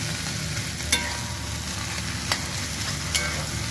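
A spoon stirs egg and brinjal with fresh coriander leaves in a frying pan, the mixture sizzling steadily up close, with a few sharp scraping clicks as the spoon hits the pan.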